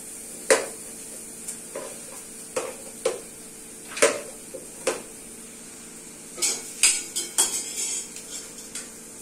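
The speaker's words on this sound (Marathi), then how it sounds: "टमाटर बारीक बारीक कापून घेते." Knife chopping tomatoes finely on a board in a home kitchen while making pav bhaji, a series of sharp separate taps close by, sparse at first and then quicker near the end.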